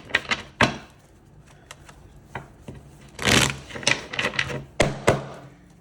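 Tarot cards are shuffled and tapped by hand, giving a string of sharp clacks and soft riffling bursts, with a longer flurry in the middle, close and fairly quiet with no talking.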